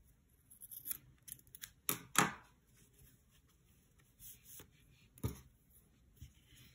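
Scissors snip through t-shirt yarn in a handful of sharp, close crunching cuts spaced irregularly across a quiet background, with soft handling noises between them.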